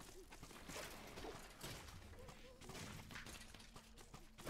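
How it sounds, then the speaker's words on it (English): Firework arrows go off in Minecraft Dungeons as a cluster of sharp bursts and crackling blasts against skeleton enemies, with dense layered game noise. The explosions are quiet and close together. "the firework arrow thing is cool"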